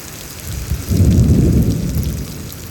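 Heavy rain pours down steadily during a thunderstorm in Houston, Texas, with a deep rumble of thunder swelling near the one-second mark and rolling on loudly beneath the downpour before slowly easing.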